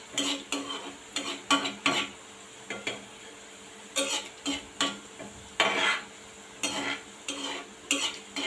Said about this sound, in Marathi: तेल जरा असं हलवत राहा चमच्याने, जेणेकरून सर्व साईडने